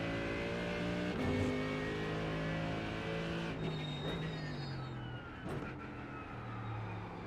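AMG race car in a racing video game, engine revving and dropping through its range across several seconds, a continuous strong motor tone with pitch sweeps and brief shift breaks.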